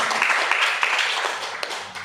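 A church congregation breaks into applause, dense steady clapping from many hands filling a large room, loud and continuous throughout.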